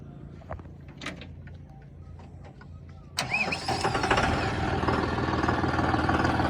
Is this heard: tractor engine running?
yes